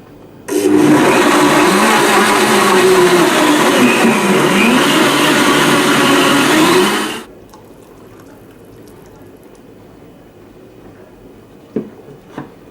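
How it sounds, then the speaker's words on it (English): A Blendtec blender runs on high, blending a strawberry yogurt smoothie with a loud, steady roar for about seven seconds, then cuts off into near quiet. "Blend this on high for 15 to 30 seconds."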